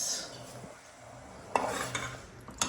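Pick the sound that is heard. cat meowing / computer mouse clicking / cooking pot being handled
cooking pot being handled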